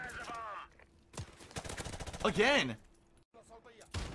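Gunfire in Call of Duty Modern Warfare multiplayer, with enemies firing from outside a spawn area, comes as a short burst of shots under a player's talking, separated by brief quiet gaps.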